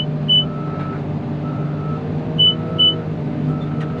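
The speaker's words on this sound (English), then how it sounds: "we're just gonna move this bucket out of the way" A wheel loader on parking-lot snow removal moves its bucket as its diesel engine rumbles steadily up close, while a few intermittent reversing beeps sound over the engine.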